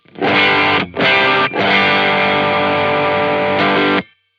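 An electric guitar through an 808 overdrive pedal, warm and gritty, strums a chord, briefly cuts out twice, then rings out loud and sustained before stopping abruptly.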